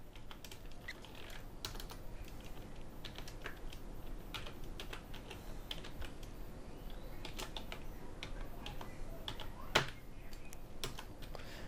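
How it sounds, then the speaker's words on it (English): Rapid, irregular key clicks from a computer keyboard, close and continuous, with brief pauses and one sharper tap near the end. "Now type your text."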